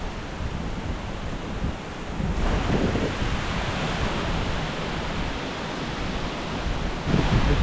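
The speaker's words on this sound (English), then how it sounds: "Listen to that wind," Strong, steady wind roaring outdoors at Kaercher Creek Park near a dam, a broad continuous rush that swells louder in gusts and buffets the microphone, with no voices.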